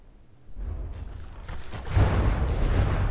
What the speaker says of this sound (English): That's going to be some plunging fire